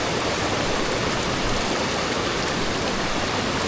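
Loud, unbroken roar of a rushing stream near Siddheshwar waterfall during heavy rain, a dense steady wash of water and rainfall with no voices.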